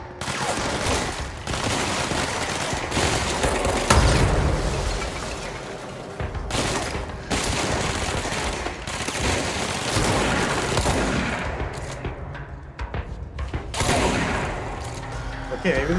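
Gunfire from the video game Control crackles in rapid bursts and booms, loud and continuous, with a voice talking over the shooting in places.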